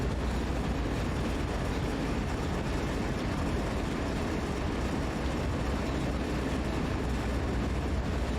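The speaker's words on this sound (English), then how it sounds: "The train will just roll through." A loaded grain freight train in Train Sim World 2 climbs the Sand Patch Grade with a steady, continuous rumble of engines and rolling wheels, heard alone at an even, moderate level throughout.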